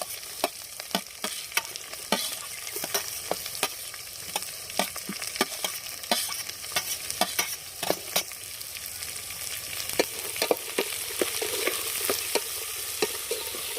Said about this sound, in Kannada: ಒಗ್ಗರಣೆಗೆ ಈರುಳ್ಳಿಯನ್ನು ಸೇರಿಸಿಕೊಳ್ಳಬೇಕು.